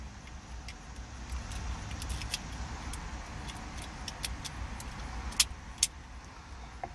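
A key turns in the ignition lock switch of a 1997–2001 Honda Prelude BB6, giving a few close, sharp metallic clicks and jingles over steady low background rumble.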